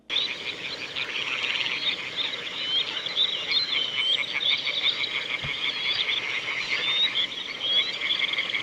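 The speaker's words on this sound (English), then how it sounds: "And here's the call of the eared grebe." An eared grebe calling amid a dense chorus of frog-like croaks and trills, a continuous high rippling texture holding steady throughout, with no voices present.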